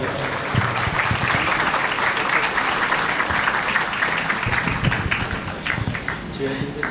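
A crowd applauds to welcome Dinesh Shailendra on stage at a 100th birth anniversary celebration, with dense, sustained clapping throughout and voices faintly mixed in.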